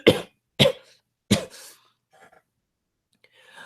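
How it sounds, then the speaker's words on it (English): Three sharp, close coughs in quick succession, then a few faint rustles and near silence. "Well, I've got a cough"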